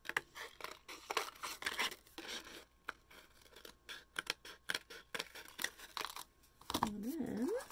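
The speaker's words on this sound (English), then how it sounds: "now I'm going to go ahead and just trim this off here" Scissors trimming the edge of a woven paper piece in a craft setting, a close series of quiet, crisp snips and rustling paper, ending with a faint crinkle.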